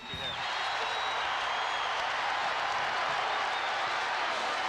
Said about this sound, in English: the crowd in Hilton really into this ball game